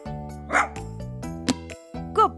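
A cartoon puppy barks a few times, short yips and bow-wows spaced out over bright background music, fairly loud and close.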